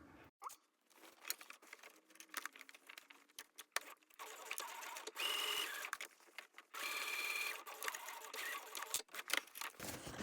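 A sewing machine back-stitches a seam on a zipper pouch lining in two short close bursts of rapid stitching, between quieter handling and fabric rustling.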